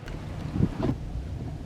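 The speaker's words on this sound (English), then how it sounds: "Yeah, it's windy." Strong wind gusting outdoors, roaring and buffeting steadily against the microphone with a brief stronger surge midway.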